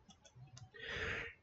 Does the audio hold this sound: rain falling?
no